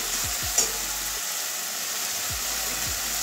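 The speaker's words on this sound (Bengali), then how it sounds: "এই যে মশলা থেকে তেল ছাড়ছে।" Spice masala fries in oil in a pan for a Bengali bitter gourd, eggplant, potato and pumpkin curry, giving a steady close sizzle with a couple of soft stirring scrapes.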